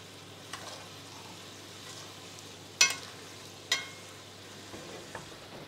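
Pork chops frying in a pan while basted with sauce, giving a steady low sizzle with a few sharp utensil clinks against the pan.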